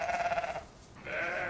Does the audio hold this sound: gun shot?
no